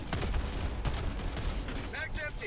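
Turret gunfire in the video game Helldivers: rapid repeated shots in quick bursts, fairly loud and continuous. Excited talk comes in near the end.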